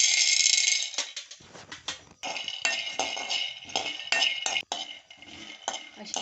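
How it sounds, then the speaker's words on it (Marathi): Peanuts being dry-roasted in a pan, a busy clatter of nuts rattling and skittering against the metal as they are stirred, in uneven bursts with brief pauses. "सर्वप्रथम आपण आहे ना शेंगदाणे भाजून घेऊया।"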